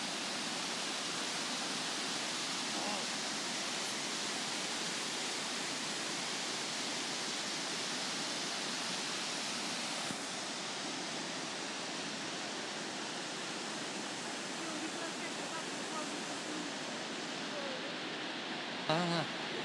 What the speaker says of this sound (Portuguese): estamos a assistir neste momento a uma fuga de água do carro do campo